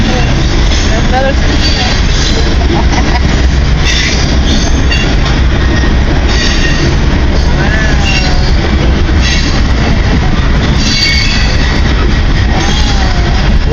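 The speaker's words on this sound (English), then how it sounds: "Wow. That's a long train," A long CN freight train rolls past close by, a loud continuous rumble of wagons with wheel squeal and clatter throughout, while people talk over it.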